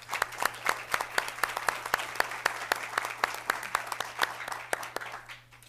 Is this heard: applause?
yes